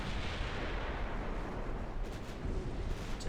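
A torpedo striking a ship during a naval battle in the Ultimate Admiral Dreadnoughts game, heard as dense, rumbling explosive booms and gunfire-like bursts that continue steadily without a pause.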